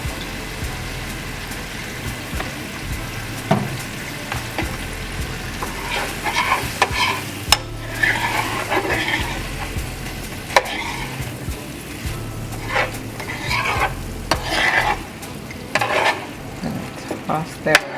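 Food tossed and stirred in a pan of sizzling olive oil with bouillon seasoning, a steady frying crackle broken by repeated scraping and clattering stirs that grow busier toward the end, with no talk.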